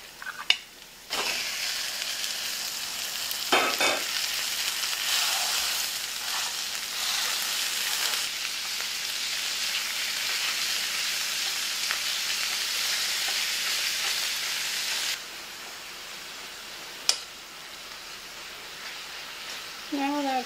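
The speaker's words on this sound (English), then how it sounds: "now I'm going to add the ground beef and cook that" Ground beef frying with browned onions in a pan, a steady broadband sizzle lasting throughout with occasional stirring clicks and a brief quieter stretch near the end, with faint speech.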